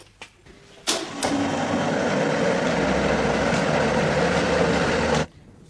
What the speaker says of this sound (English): Run the lathe